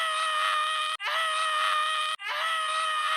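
A man screams in pain after stepping on something, three long, loud, sustained cries separated by quick breaths, close and with no other sound.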